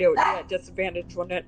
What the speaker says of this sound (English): I'm sorry about the dog.